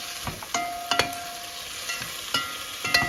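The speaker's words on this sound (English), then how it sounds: "So let it fry up a little" Boiled beef fries in a pan for an eggplant curry, a steady sizzle with several sharp utensil clinks and scrapes at uneven intervals, close up and without talk.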